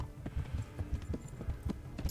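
Horse hooves clip-clopping in the medieval role-playing game Kingdom Come: Deliverance, a steady loud rhythmic trot of repeated thudding steps, close and alone with no voices.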